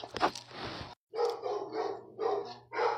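A dog barks repeatedly nearby, a run of several sharp barks with short pauses between them.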